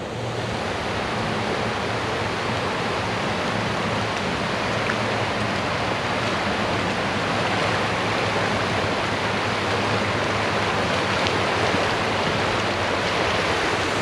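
Floodwater of the Trinity River in Denton rushes steadily, a loud, unbroken roar of flowing water that holds constant throughout with no voices over it.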